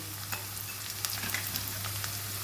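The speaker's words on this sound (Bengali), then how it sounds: "এবার আলুগুলো আমি লাল লাল করে ভালো করে ভেজে নেবো" Diced potatoes fry in hot oil with salt and turmeric, giving a steady, close sizzle dotted with small crackles and pops over a faint low hum.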